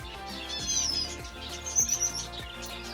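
Pet finches chirp and tweet continuously, with quick high calls over a busy layered background of bird chatter, close and moderately loud, with no one speaking.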